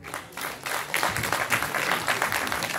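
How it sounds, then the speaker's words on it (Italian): An audience at a lively Italian show claps for a man, a loud, close burst of applause that swells after a brief softer opening and keeps a busy, uneven patter. "Glielo facciamo un applauso a questo signore."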